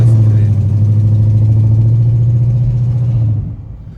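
A car engine with a stage 2 burble tune idles with a steady low drone, a faint fast ticking running through it, before the sound drops away near the end.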